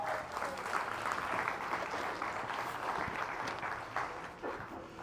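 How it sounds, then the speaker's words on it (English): Audience at a live mind-reading stage show gives a round of applause, a steady wash of many hands clapping at moderate volume with no talk over it. "Give David a round of applause, everybody"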